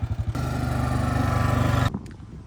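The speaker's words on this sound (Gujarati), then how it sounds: "જો ભાઈ અહીં ટ્રેક્ટર લઈને આવી ગયા છે અહીંયામાંથી." A tractor engine runs on a strawberry and plum farm near London, a loud, close, steady mechanical drone with rhythmic pulsing that lasts under two seconds before cutting away to quieter surroundings.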